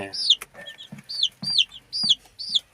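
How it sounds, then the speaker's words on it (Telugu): Peru cross chicks cluck in short repeated bursts, several birds calling close by with steady rhythm and soft low scratching between calls. "ఈ పదిహేడు పిల్లలు అయితే ఉన్నాయి అన్ని పుంజి పిల్లలే"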